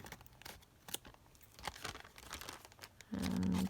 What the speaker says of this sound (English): Let's just trim that down.